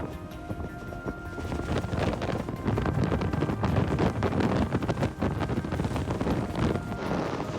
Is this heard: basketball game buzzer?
no